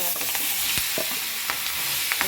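Carrot and green chili sambharo, tossed in a pan with mustard seeds, asafoetida, turmeric and salt, is stirred over a steady sizzle, with several distinct spoon strokes scraping the pan close by and no talk.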